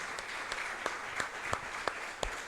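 An audience at a Brazilian church round-table event gives quiet, distant applause, a soft continuous patter with a few sharper claps standing out.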